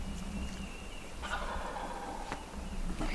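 A wild gobbler on southern public land sounds off from a distance, a faint rattling gobble rising out of steady outdoor background noise, with no one speaking.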